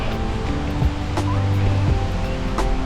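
Steady broadband wash of Lake Huron waves on the shore at Port Austin, Michigan, continuous and fairly loud, with a few brief clicks and faint low tones mixed in.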